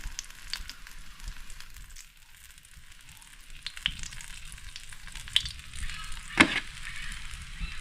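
Pieces of barracuda frying in oil, a soft, continuous sizzle at moderate distance with a few sharper pops and crackles, one stronger burst near the end, and no speech.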